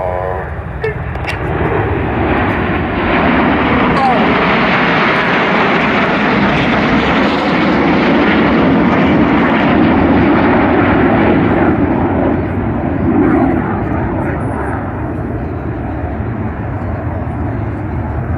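RAF Red Arrows jets perform at an airshow, a loud, sustained jet roar that swells and then fades as the formation passes, with talk heard faintly over the noise.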